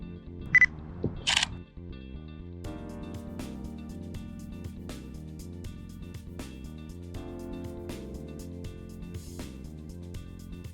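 A Nikon Zfc fitted with a Nikkor Z 28mm f/2.8 SE lens autofocuses and fires its shutter, giving a few crisp mechanical clicks and whirs near the start, then scattered sharp clicks over steady background music.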